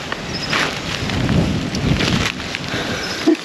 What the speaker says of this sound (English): because the wind is coming from this way